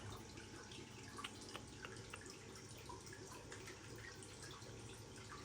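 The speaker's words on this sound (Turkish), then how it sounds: "Bu da geliyor onlardan su içiyor" A cat laps water from a container holding aquarium plants, giving faint, soft, irregular drips and splashes that repeat quietly over a low background hum, with no talking.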